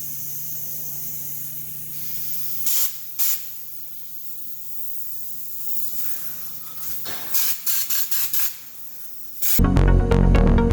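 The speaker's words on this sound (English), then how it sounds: "So we'll do a couple test sprays on the paper" Short bursts of a spray gun spraying bedliner onto paper, first two quick blasts, then a rapid series of sprays, ending in a loud mechanical roar.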